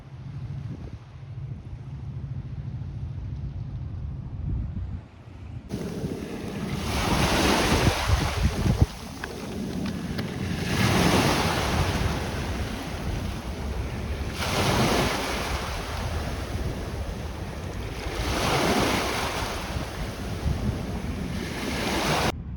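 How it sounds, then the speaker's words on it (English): Strong gusting wind buffets the microphone over the steady wash of ocean surf near Seattle, with waves swelling and breaking in repeated surges. "I know it's windy, but it feels nice."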